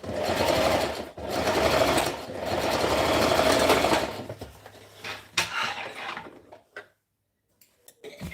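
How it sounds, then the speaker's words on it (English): A sewing machine stitches the shoulder seam of a V-neck shirt, running in a loud steady burst for about four seconds, then giving shorter, quieter runs and stops, with a brief silence near the end. "I'm done stitching, joining up the shoulder to it"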